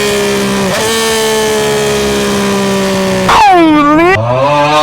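A Yamaha R9 sport motorcycle with a Dominator GP3 full-system exhaust and flashed ECU, idling steadily, then revving up sharply and dropping back, a loud, close, raspy engine note alone without talk.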